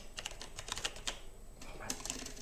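Rapid close clicking of a computer keyboard during an autonomous car engineering project, with irregular bursts of keystrokes and a brief pause midway.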